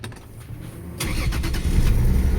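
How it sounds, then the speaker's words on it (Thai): A Mercedes-Benz W123 280S fitted with a Toyota 2JZ engine cranks briefly, catches and settles into a loud, steady running note close by. "สตาร์ทเครื่องนะครับ"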